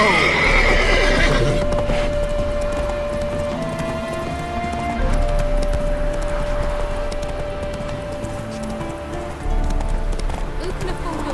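Roach, a horse in The Witcher 3, gallops with steady clip-clopping hooves and whinnies, loud throughout, while voices speak over a sustained game backdrop.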